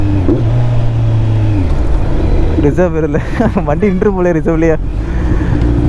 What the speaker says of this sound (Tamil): அந்த இன்லைன் 4 சவுண்ட், அப்பா, இன்லைன் 4 ரிதம்.